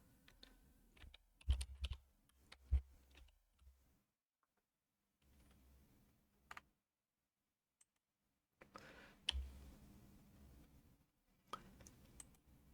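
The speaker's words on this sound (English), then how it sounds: "just start typing bear smile and it will turn up" Soft, quick keyboard clicks come in short bursts separated by quiet pauses, close and fairly faint.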